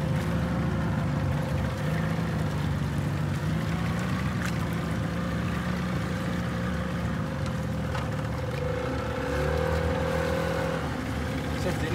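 A motor raft carrying people out to a ship during biodiesel cargo loading, its engine droning steadily and fairly close throughout, with some speech underneath.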